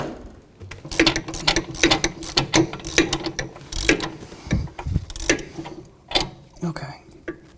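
Ratchet wrench with a 17mm socket loosening the front sway bar link nut on a 2007-2013 Acura MDX, giving rapid runs of close, loud clicking in bursts with short pauses.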